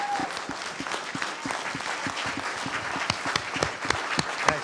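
An audience at a tribute to Walter J. "Doc" Hurley applauds steadily, many hands clapping in a moderately loud, even patter that continues throughout.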